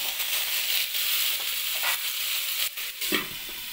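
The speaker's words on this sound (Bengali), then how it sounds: "হলুদটা দিয়ে দিয়েছি, এভাবে আমি একটু নাড়িয়ে নিলাম।" Vegetables with turmeric are stirred in a sizzling pan, a steady frying hiss with scraping stirs and a few clacks of the utensil against the pan near the end.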